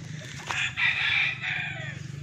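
A Boston Millionaire gamefowl rooster crows once in a long, strained call, fairly close, over a steady low hum in the background.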